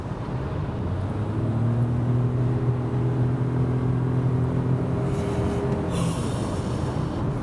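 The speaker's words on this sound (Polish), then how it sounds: "teraz się przełączę w tryb power, żeby więcej pojechać na silniku spalinowym" A Toyota Yaris Cross hybrid accelerates in power mode on its combustion engine, giving a steady, moderate engine drone with rising tonal hum inside the cabin, mixed with road noise and no speech.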